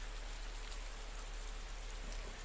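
Rain falling in the video game Flowers, a steady faint hiss of dense raindrops on surfaces, uniform and continuous with no voices.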